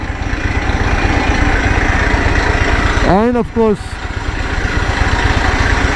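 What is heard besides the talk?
Harley-Davidson Pan America motorcycle engine idling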